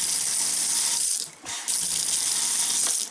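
Water flows steadily from an RV faucet fed by a replaced water pump, a quieter unit than the original Flojet. The rush is continuous and close, with a brief dip partway through.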